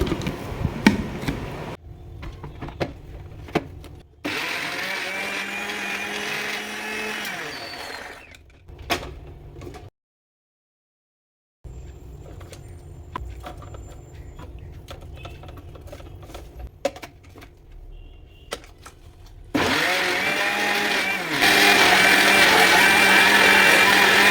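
A kitchen mixer grinder blends watermelon and ginger into juice, its motor whirring loudly in two separate runs of several seconds each, with quieter pauses and brief handling noises between them.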